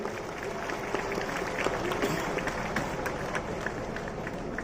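Dense, steady applause from a church jubilee audience welcoming a guest, a continuous wash of many hands clapping together at moderate distance, with some crowd murmur mixed in throughout.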